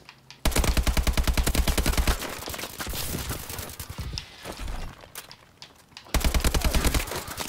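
Rapid automatic gunfire from Call of Duty: Advanced Warfare multiplayer, fast rhythmic bursts at close range, loud and sustained with short pauses between volleys.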